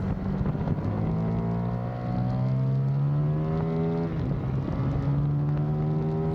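Race car engine at the Nogaro circuit, heard from on board as a droning, buzzing note that sags briefly, then climbs through repeated gear changes under steady acceleration, loud and continuous.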